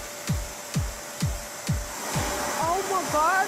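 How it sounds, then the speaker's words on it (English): A carpet cleaner machine runs close by with a steady rhythmic pumping, regular thumping strokes about every half second over a constant whine, and excited voices rise over it toward the end. "So this is the carpet cleaner I'm using today."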